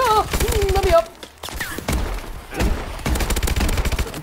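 Shotgun blasts in a first-person shooter game, heavy booming shots that punch through players talking over them, with a short lull in the middle.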